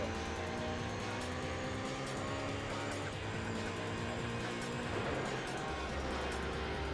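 Race cars lap a circuit in Gran Turismo 4, with a Mercedes CLK among them, their engines droning and revving continuously at high pitch, loud and steady with shifting tones as cars pass.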